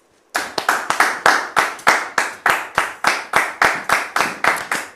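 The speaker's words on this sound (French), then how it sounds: "Merci donc de la recevoir sous vos applaudissements" A studio audience on a television set welcomes a guest with clapping in unison, about fourteen sharp, loud claps in a steady, even beat, with no talking.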